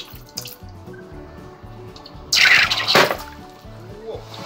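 Molten copper poured into water, giving a sudden loud hiss and bubbling burst midway over a low background hum, then settling into faint trickling.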